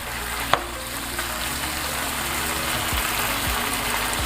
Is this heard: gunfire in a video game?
no